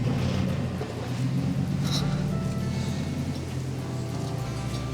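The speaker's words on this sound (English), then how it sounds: "Bloody American truck drivers, always got to rev it everywhere." A heavy Ram pickup truck engine rumbles and revs steadily close by, a deep continuous drone with a brief higher burst partway through.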